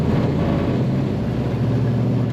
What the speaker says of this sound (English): Definitely a nice thump coming out the exhaust from the stack exhaust behind the cab.